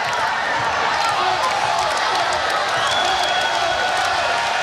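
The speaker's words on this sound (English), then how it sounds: "And now the crowd up in the volume." Volleyball arena crowd roaring continuously at a women's college match, Hawaii against CS Fullerton, a dense loud wash of cheering with no break.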